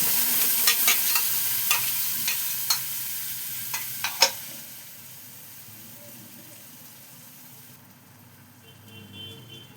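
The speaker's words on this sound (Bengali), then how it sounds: "এইবার এটাতে তেল গরমও হয়ে গেছে, এটাতে এই পেস্টটা দিয়ে দেবো" Spice paste frying in hot mustard oil in a pan, with a steady sizzle and hiss and a run of sharp clicks and scrapes from stirring early on, then the frying settling into a quieter, even crackle.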